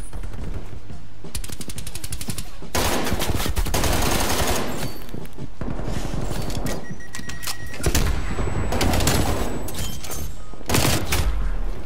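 Submachine gun fire in a video game, an AMP 63 loadout against an enemy SMG: loud, dense bursts of automatic shots in several long volleys with brief gaps between them, no talk over it.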